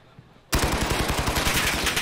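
Rapid submachine gun fire in a Call of Duty 2v2 gunfight match bursts in after a quiet moment, a loud, close, steady rattle of evenly spaced shots.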